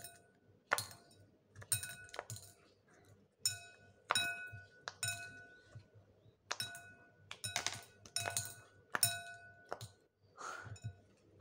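Ice cubes pressed out of a silicone pop-it mold drop and clink against one another and a hard surface in scattered bright ticks and small bursts, close and fairly quiet with pauses between them.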